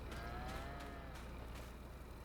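Cattle mooing on a farm, a continuous low lowing call held across the whole moment, faint and somewhat distant with steady background hum.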